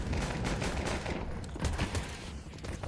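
Rapid bursts of rifle gunfire from a Counter-Strike 2 match at the PGL Cluj-Napoca 2025 tournament, dense and continuous with several overlapping shots.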